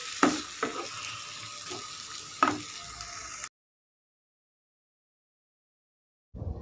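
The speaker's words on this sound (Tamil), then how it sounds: "இப்போ இதையும் நல்ல டொமேட்டோஸ் வந்து ஸ்மாஷ் ஆகிற அளவுக்கு நம்ம வந்து நல்லா வதக்கிக்கலாங்க" Tomatoes sautéing in a pan as the base for paneer butter masala gravy: a steady close sizzle with a few sharp stirring scrapes, cutting to silence before a brief return of sound.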